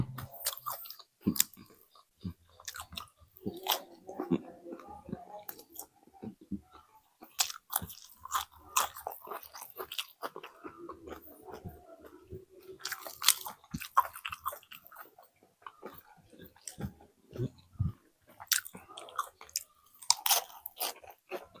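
Close crunching bites and wet chewing of fried fish eaten with raw vegetable greens, irregular and continuous with short pauses, no talking.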